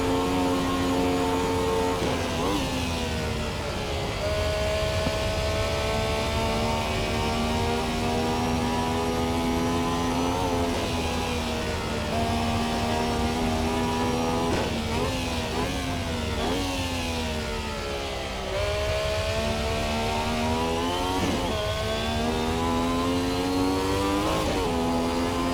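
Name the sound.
Ferrari 312T racing car engine revving on track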